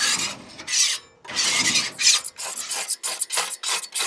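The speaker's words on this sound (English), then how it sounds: "I scrape the top off first." A stiff spatula scraping grease off the grates of a gas grill, with loud close rasping strokes, two long pushes followed by a run of shorter rapid scrapes, and no voices.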